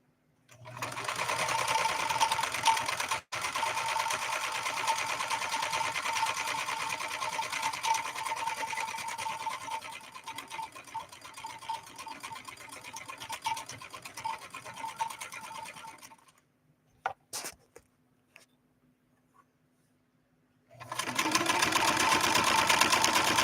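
A 1970s Kenmore 158.13520 sewing machine stitching 100% cotton hums steadily and close, slowing into sparse stop-start stitches before falling silent, then resuming at full speed.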